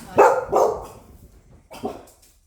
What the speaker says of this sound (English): Forgot to mention there's other dogs.